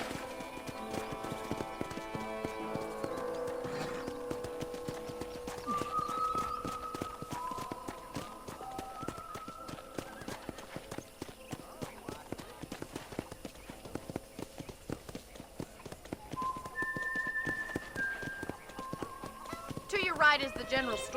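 Hooves of a horse clip-clop steadily at a walking pace in Red Dead Redemption, on a ranch near a general store, with clear rhythmic beats, background music and a voice speaking over them.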